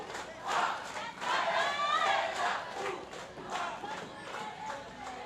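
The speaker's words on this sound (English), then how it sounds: "Crowd coming alive here with Akita up the bat." Baseball crowd cheering and shouting in the stands, a broad roar that swells twice and stays loud across the few seconds, with no talk over it.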